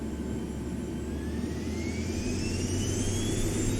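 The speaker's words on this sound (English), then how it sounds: "It's got a single jet engine." Continuous whining roar of a single jet engine on a plane in the video game X-Plane 12, a steady turbine drone with a slowly rising high-pitched whine, no voices.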